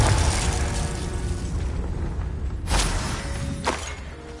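Confringo blasting spell from the Hogwarts Legacy video game: a loud, broad explosive roar at the start that fades, followed by two sharp bursting impacts near the end.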